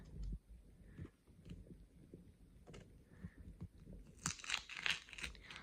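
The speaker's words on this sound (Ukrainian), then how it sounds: "Зараз будемо відкривати оцей от пакетик." Crinkly paper rustling and tearing close by, in short bursts, growing louder and brighter toward the end as a paper surprise packet is opened.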